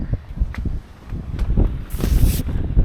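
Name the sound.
wind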